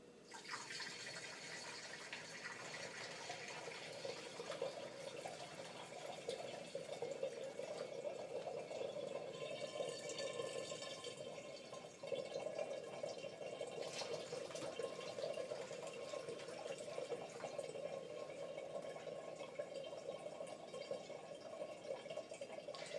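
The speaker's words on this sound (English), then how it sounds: "now I'm going to take our nice sweet tea and I'm going to pour it into this fermenter." Sweet tea poured through a funnel into a fermenter while making herbal mead, a continuous gentle trickle and splash of liquid that runs steadily throughout, quiet and close with no talking.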